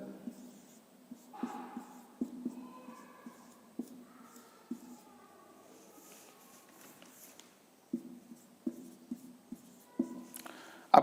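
Chalk or pen writing on a board during a fraction lesson: short scratchy strokes come in sparse clusters with quiet gaps between them, with no talking.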